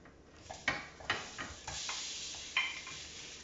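Onions going into warm coconut oil in a pan: sizzling hiss punctuated by several clinks and scrapes of stirring against the pan, fairly quiet and close.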